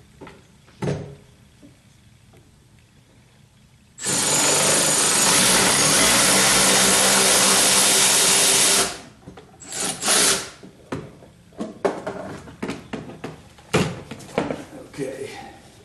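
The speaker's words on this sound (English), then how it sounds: "put my power wrench on it, since I have one" A power wrench runs in one loud, close burst of about five seconds while removing a 7/16 bolt on a 1976 Corvette, then clanks and handling noises follow.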